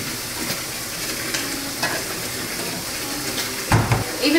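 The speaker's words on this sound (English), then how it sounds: "I'm about to shampoo it and decondition it before I go in with the rinse" Water runs steadily from a tap while a wig is shampooed, a continuous hiss and splash with a few louder splashy bursts toward the end; no one speaks.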